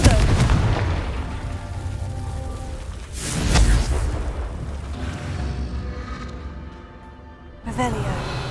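Confringo fire spell from Hogwarts Legacy bursting in booming blasts with rumbling, crackling tails, a strong hit near the start and another around the middle, game sounds continuing throughout with a sharper impact near the end.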